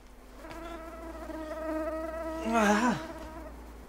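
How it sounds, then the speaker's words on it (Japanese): A mosquito in flight gives off a thin, whining buzz that holds steady, then swells louder as it passes close by before fading, set against a faint low hum. "蚊が飛び回って寝られないこんなことありますよね"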